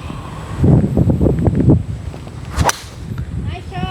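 A golf club drives a ball off the tee outdoors on a windy course: brief voices, then one sharp whooshing crack of the strike, close and loud, over gusting wind noise.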